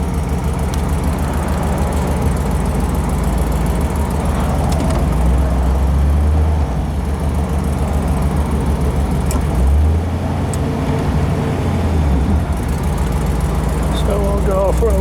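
A 1955 Ford Thunderbird on a test drive at Laguna Classic Cars, its engine a steady loud low rumble heard from inside the car, with road noise and a couple of deeper surges as it pulls along.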